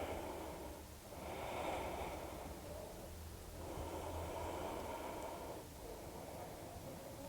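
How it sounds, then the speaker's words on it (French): Two slow, steady breaths drawn in and out through the nose during a yoga pose, close and soft, each exhale a long airy rush with no talking. "Et à nouveau 2 respirations."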